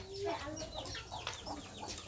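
Chickens clucking at a rural home, a series of short chirpy clucks and calls close by, moderately faint over low background noise.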